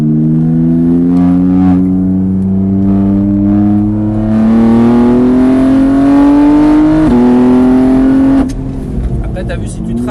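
A car accelerates hard on a race track, its loud engine note climbing steadily through a gear, then briefly dipping at a shift before easing off, with a person speaking over the engine.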